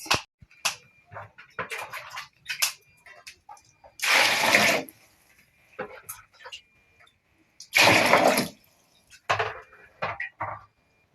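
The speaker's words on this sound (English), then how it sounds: "I'm going to pour water to boil it, to put it on fire to boil it" Water pours into a pot of washed palm fruits in two loud, broad splashing bursts, each lasting about a second, between quieter clinks and handling noises.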